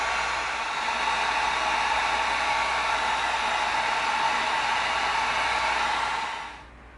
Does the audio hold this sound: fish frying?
no